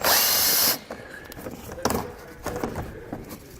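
A power tool whirs loudly for about a second while removing 5.5mm head bolts on a tow bar base plate, then cuts off, leaving scattered clanks and handling noises of tools against metal.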